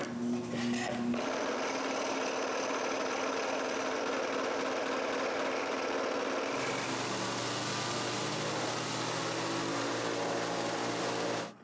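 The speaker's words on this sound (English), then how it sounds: "And now I'm using my scroll saw." Scroll saw cutting wood for the lid of a sorting box, a continuous rapid buzzing rasp that shifts to a brighter, harsher pitch partway through and stops abruptly, with no talking.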